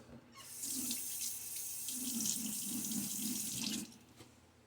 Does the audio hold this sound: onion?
no